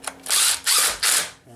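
A power tool tightens car lug nuts in a star pattern: three loud, close, whirring bursts, each about a third of a second long, separated by brief pauses.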